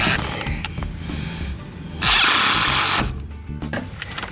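Bolts on a VW Beetle steering column being snugged up with a ratchet-type tool, a steady mechanical whir and clicking close by, with a louder continuous burst in the middle.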